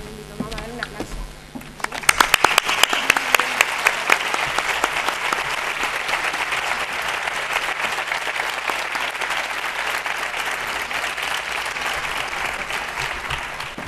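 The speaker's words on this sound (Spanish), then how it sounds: "Vamos a entregarle a mi mamá, a dar un aplauso." At an education gala, an audience bursts into loud, sustained applause after a brief quieter opening with a voice, the dense clapping filling the hall steadily to the end.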